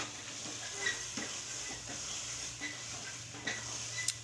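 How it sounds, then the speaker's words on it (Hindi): Desi ghee is stirred through spinach in a pan for aloo palak, with a soft, low sizzle and intermittent light scrapes and clinks of the spoon against the pan. "देसी घी को आप पूरे पालक में अच्छी तरीके से मिक्स कर लेंगे।"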